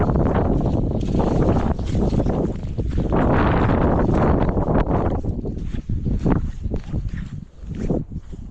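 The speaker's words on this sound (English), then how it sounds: "As you can probably hear, it's quite windy as well." Strong wind buffets the microphone on an open moorland hike at Kinder Scout, a loud continuous roar with gusty swells and dips throughout, no voices.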